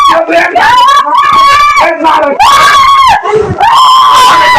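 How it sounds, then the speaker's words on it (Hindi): People scream loudly and continuously during a violent attack, shrill overlapping cries and wails that sound close and strained, with brief breaks. "इस वीडियो में इनकी चिल्लाने की आवाज भी आ रही है"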